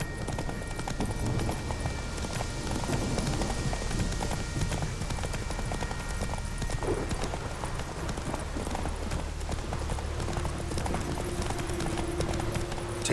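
Hooves of Roach, the horse in the video game The Witcher, pound in a steady galloping clip-clop over a dense, continuous game soundscape that stays loud and unbroken throughout.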